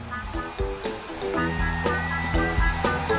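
Car-wash dryer blowing air over a freshly washed red car in a cartoon, a steady rushing whoosh that lasts throughout under cheerful musical notes.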